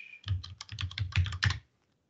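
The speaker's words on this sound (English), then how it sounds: "if I just type in example.sh," Quick burst of computer keyboard typing, a rapid run of close, crisp keystrokes lasting about a second and a half before stopping, with no talk.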